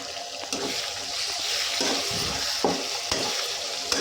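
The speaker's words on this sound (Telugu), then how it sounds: "ఇలా బాగా మగ్గనిచ్చిన తర్వాత కొత్తిమీర వేసుకొని బాగా కలుపుకోండి" Lemon rice with fresh coriander is stirred in a pan, the spoon scraping and tapping in uneven strokes over a soft hiss; close, moderate loudness, no voices.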